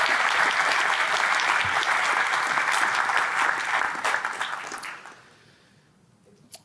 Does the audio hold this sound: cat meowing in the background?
no